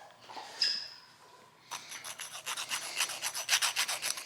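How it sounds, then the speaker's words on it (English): A hand file rasping along the edges of a cut metal crank trigger part for an Evo 8, a quick brush first, then a run of rhythmic close scraping strokes growing steadily louder. "now we're just going to take a file to it and kind of clean up the edges"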